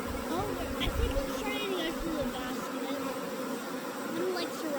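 A swarm of honey bees hums continuously around a tree branch, many wings whining at close and middle distance, with a person speaking now and then.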